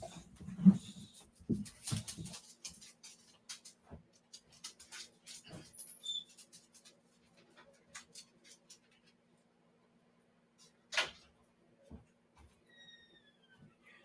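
Sporadic small noises from dogs nearby, soft whimpers, snuffling and scratching in short bursts separated by quiet gaps, with no barking.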